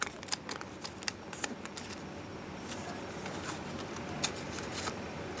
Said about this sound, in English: Fold it up to reinforce the crease, and fold it down to reinforce the crease once more.